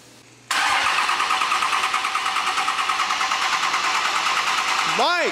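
A Cummins diesel engine fires on its first start: a quiet lead-in gives way to a loud, steady, rumbling run with a rhythmic knocking pulse, close up, and a rising whine near the end.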